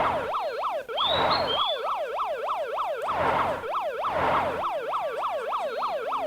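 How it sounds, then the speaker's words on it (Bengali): An ambulance siren in the Meena 2 video game wails in a steady, repeating up-and-down cycle, loud and continuous, with a brief high chirp early on. "এই যে অ্যাম্বুলেন্স"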